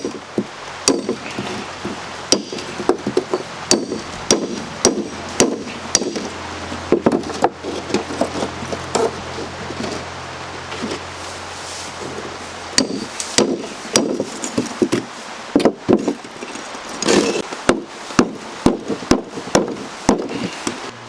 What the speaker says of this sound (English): I'm going to open up this part right here by using the chisel